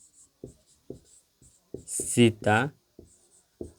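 Chalk or marker tapping and scratching on a classroom board in short, evenly spaced strokes, close and crisp, with a teacher's voice speaking briefly midway.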